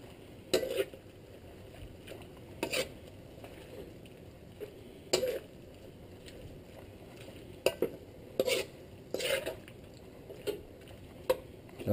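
Soy sauce stirred into pancit canton and bihon noodles in a pan, recurring scraping and clinking strokes every second or two over a soft background hiss.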